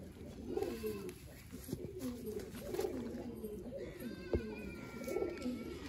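Female pigeon cooing nearby, soft low throaty coos repeating every second or so at a moderate level over a faint background.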